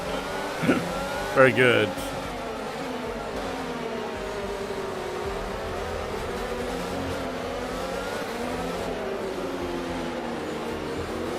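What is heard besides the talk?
race car driving in F1 22 video game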